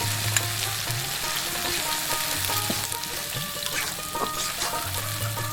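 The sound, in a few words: onion paste frying in pan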